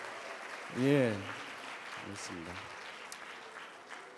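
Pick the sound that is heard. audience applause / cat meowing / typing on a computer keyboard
audience applause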